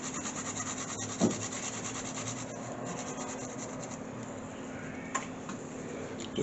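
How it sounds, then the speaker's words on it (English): Garlic scrapes across a grater straight into cream cheese in a kitchen, a close, steady rasping rub with a couple of small knocks and no talking. "Just grate my garlic directly into the cream cheese here."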